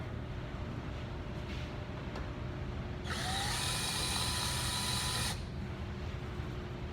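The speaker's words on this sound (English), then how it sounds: "that's going to deburr that hole. It's going to take that corner off." A drill bit deburrs and chamfers the edge of a drilled hole in metal, a brief high whirring burst of about two seconds standing out over a low steady room hum.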